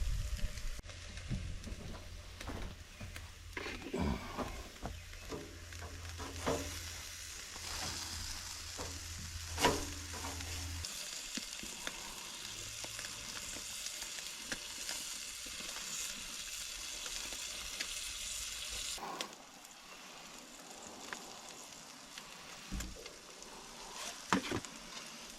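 Burgers fry on a stove in a remote off-grid log cabin with a steady, close, crackling sizzle that runs throughout. A low hum fades out partway, and there are occasional clinks and scrapes.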